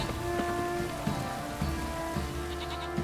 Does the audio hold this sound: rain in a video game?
yes